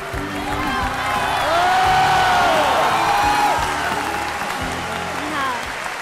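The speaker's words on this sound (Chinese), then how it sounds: "掌声送给宋莹，加油" A studio audience applauds and cheers for Song Ying, a steady wash of clapping with whoops and shouts swelling near the middle, heard under a host's voice calling out over the crowd.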